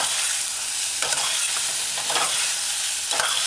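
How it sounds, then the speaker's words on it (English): A cooking spoon scrapes and stirs through a chicken tomato stew over a steady sizzling hiss, with a few distinct stirring swishes spaced about a second apart. "Use a cooking spoon and stir in, stir in."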